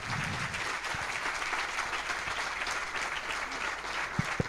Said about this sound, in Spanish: Gustavo González Santa, fuerte el aplauso.